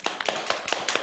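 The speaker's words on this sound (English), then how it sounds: "half silent, half loud applause, applause" Applause from a virtual consultation audience, heard as a short run of sharp, uneven hand claps, fairly close and moderately loud, with no talking over it.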